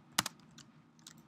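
A few quick, soft keystrokes tap on a computer keyboard during data-wrangling work, two sharper clicks early then scattered lighter ones in a quiet room.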